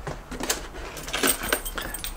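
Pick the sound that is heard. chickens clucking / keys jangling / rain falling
keys jangling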